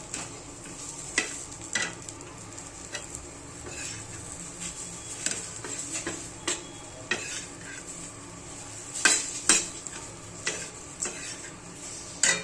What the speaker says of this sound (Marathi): त्याच्यामध्ये हलकीचे थोडेसे फ्राय करून घ्यायचे हे असे कांद्यामध्ये एकदम छान होतं